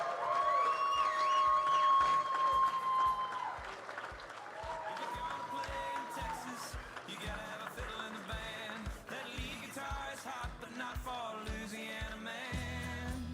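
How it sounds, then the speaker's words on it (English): An audience at an auctioneer championship applauds the grand champion with sustained clapping that holds steady and then gradually thins. An amplified voice and music carry along underneath. "Give him a round of applause."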